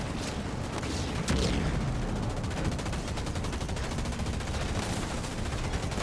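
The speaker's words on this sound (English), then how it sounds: "Extractor getting shot at by the turret" Sustained automatic gunfire from a turret pounding an extractor in the real-time strategy game Halo Wars 2, dense and loud throughout with continuous rattling bursts and booming impacts.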